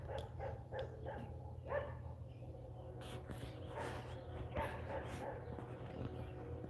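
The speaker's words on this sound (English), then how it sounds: "those dogs bark incessantly" The neighbor's dogs bark from some distance, faint and repeated in irregular bursts over a low steady hum, with no voices.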